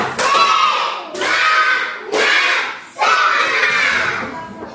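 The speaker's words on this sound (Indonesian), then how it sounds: "tepuk semangat dulu" Classroom of fifth-grade schoolchildren doing a rhythmic spirit clap chant together, four loud bursts of group clapping and shouting in quick succession, close and energetic.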